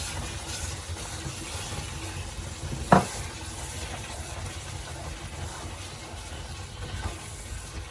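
Milk being stirred into a Tamil black tiger prawn curry simmering in a pan, a faint steady sizzle and stirring with one sharp clink of a utensil near the middle, no voices.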